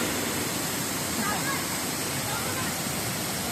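Sawdav waterfall in the Konkan region pours with a loud, steady roar of falling water that fills the whole scene without a break.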